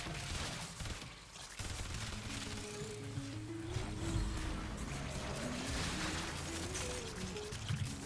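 Video game gunfire rattles in rapid, dense bursts over a steady background of music and effects, moderately loud and continuous throughout.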